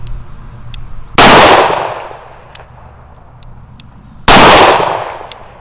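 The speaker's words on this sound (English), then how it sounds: "2 rounds of Hornady critical defense, 410 triple defense, followed by 2 rounds of Brennecke close encounter, followed by 2 rounds of Winchester Defender" Two loud, sharp gunshots from a Smith & Wesson Governor revolver firing .410 and .45 defense loads, several seconds apart, each cracking hard and then ringing out into a decaying tail.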